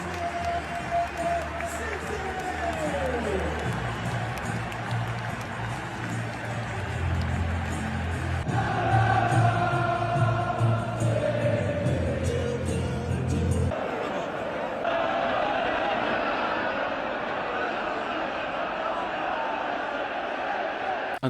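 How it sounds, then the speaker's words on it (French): Manchester City supporters at the Etihad Stadium make a loud, sustained crowd roar of cheering and chanting, with a clear swell partway through and talk over parts of it. "je voulais quand même mettre en avant la ferveur des supporters de Manchester City autour de l'Etihad Stadium avant la rencontre et dans le stade"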